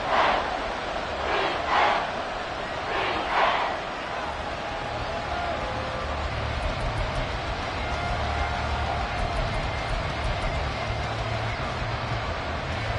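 Arrowhead Stadium crowd noise in a football video game: a steady, loud roar of a large crowd that swells with a few cheering bursts early on, then holds a dense wash throughout.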